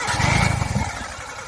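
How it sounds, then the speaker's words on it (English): Engine cranking on a 1986 Suzuki Samurai fitted with a Toyota 3K carburetor while the float bowl is empty: a loud, close, rhythmic churning from the starter that never catches and runs without a break. "there's nothing in the bowl, so it's probably going to crank for a little while"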